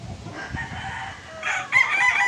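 A white gamefowl rooster, a street-bred Bruce Barnett sweater, crows at close range in a short, fairly loud call at a game farm, with a second harsher burst near the end.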